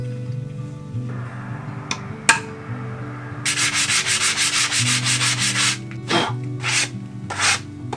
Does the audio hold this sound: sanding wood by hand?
yes